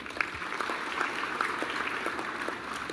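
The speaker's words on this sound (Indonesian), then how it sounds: "kita beri tepuk tangan" Applause from the audience at the One Map Policy Summit 2024 in a Jakarta hotel ballroom, a steady wash of clapping that holds for a few seconds at moderate level with no talk over it.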